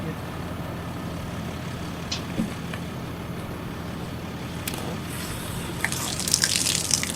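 Water poured out for horses, heard as a steady, close rushing gush throughout, swelling into a brief splashier burst near the end.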